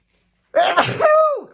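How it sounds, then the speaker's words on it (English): A single sharp sneeze bursts out after a moment of silence, close and loud, with a rising breathy onset and a tonal trailing end. "Excuse me, I'm going to sneeze."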